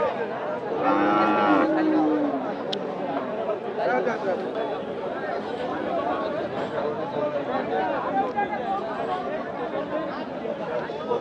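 Heifer calves and cattle, including Sahiwal calves, at a Boshunia haat livestock market. A clear moo rises near the start, then the crowd's chatter and voices dominate with the animals underneath.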